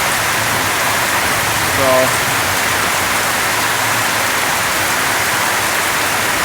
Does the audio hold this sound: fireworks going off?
no